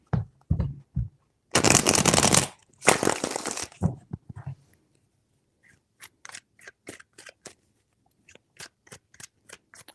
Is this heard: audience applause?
no